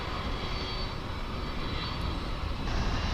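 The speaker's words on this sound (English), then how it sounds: "It's on its way to Louisville." MD-11 aircraft at Dallas/Fort Worth International Airport, a steady, loud broadband jet engine roar that holds constant throughout and swells slightly near the end, with no voices.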